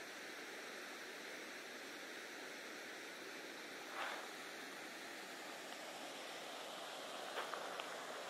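A stream runs steadily in Picture Canyon near Flagstaff, a constant broad rushing wash of water heard from some distance, with a couple of faint brief knocks over it.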